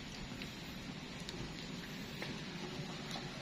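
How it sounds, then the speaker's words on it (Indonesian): Rain falls steadily in an outdoor village setting, a constant close hiss with scattered sharper drips and taps and no speech over it. "Ini hujan-hujan mantap Kang"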